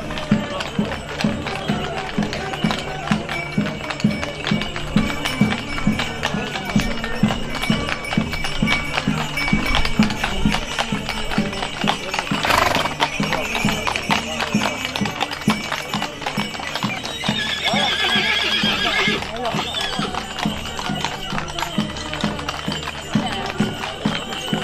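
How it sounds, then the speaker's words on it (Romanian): Horses parading through a village before a crowd, hooves clopping steadily on the ground throughout, with a continuous murmur of people talking and a brief whinny. "zeci de oameni au privit cu mare încântare defilarea celor mai frumoși cai din comună"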